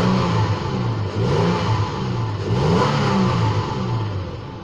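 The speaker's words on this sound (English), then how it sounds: "Give it a good rev for you." A 2014 Toyota Tacoma V6 base model is revved at idle, the engine swelling up and dropping back in several close, loud throttle blips that rise and fall in pitch.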